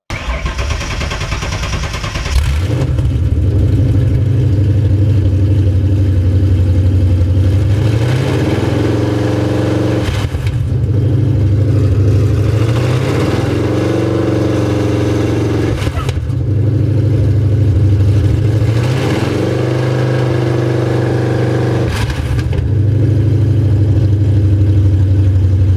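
A Ford Coyote V8 in a Foxbody Mustang with the transmission removed starts and runs loud and close, a deep rumbling idle that rises and falls in repeated revs over about twenty-five seconds.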